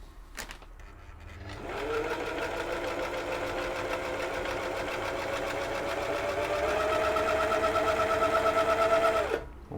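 An old Husqvarna sewing machine hums steadily after a click as it starts, running continuously for several seconds with an even, buzzing mechanical whir that grows slightly louder near the end, no talking.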